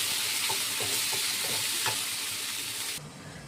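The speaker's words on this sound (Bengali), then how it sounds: "এবার আমি এটাকে একটু ভালো করে কষাবো।" Taro and potato with ginger-cumin masala are stir-fried over high heat, a loud close sizzle with repeated scraping strokes of a spatula against the pan, ending abruptly into a quieter hiss.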